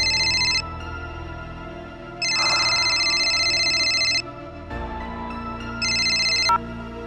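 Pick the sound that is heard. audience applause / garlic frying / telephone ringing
telephone ringing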